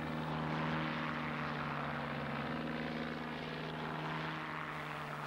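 A Messerschmitt Bf 109F fighter's DB601 engine drones steadily and loudly throughout, a constant propeller-driven roar with a slight change in pitch midway and no voices.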